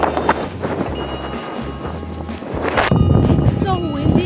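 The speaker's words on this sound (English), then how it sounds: "It's so windy. You should be able to hear it" Strong wind buffets the microphone in low rumbling gusts, steady throughout and growing heavier near the end, with faint voices in the background, in the mountains during a 100 km ultramarathon.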